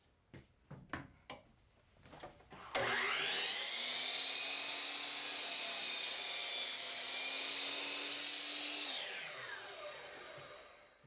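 A power saw slices through four stacked wood pieces together: a few wooden knocks first, then a loud, sustained high whine as the blade bites and cuts for about six seconds before winding down.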